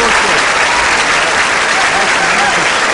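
Loud, sustained audience applause at a 2009 memorial evening for Ahmet Kayıkçı, a dense continuous wash of many hands clapping at once with no breaks, crowd voices mixed within.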